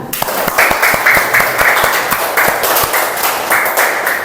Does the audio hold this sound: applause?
yes